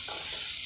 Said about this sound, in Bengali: একটু নাড়ানাড়ি করে নিই